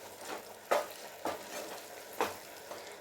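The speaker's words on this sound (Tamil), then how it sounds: "சேர்த்துட்டு நல்லா ரோஸ்ட் பண்ணிக்க வேண்டியதுதான்." Prawns roasting in ghee in a pan over medium flame, a soft steady sizzle broken by three or four sharp scraping stirs of a spatula at close range, with no voices.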